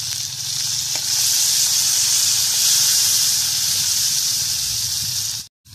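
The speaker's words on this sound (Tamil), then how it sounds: "அடுத்து நம்ம தக்காளி போட்டு வணக்கலாம்." Tomatoes fry with golden onions in a clay pot, giving a loud, steady hiss of sizzling oil and steam that holds evenly for several seconds before cutting off abruptly near the end.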